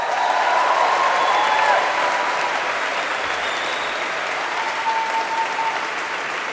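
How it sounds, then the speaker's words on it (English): A graduating class at a Princeton baccalaureate service applauds, a dense, sustained crowd clapping that fills the space at steady loudness and eases off slightly toward the end. "why don't you give yourselves a round of applause?"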